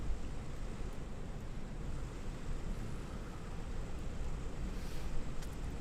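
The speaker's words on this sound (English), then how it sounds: "It is windy. You can hear the wind" Wind blowing across an airfield with DC-6 airliners, a steady broadband rushing roar with low rumble, constant and fairly loud throughout, no voices.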